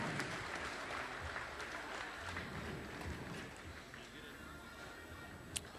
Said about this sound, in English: Those young shearers, round of applause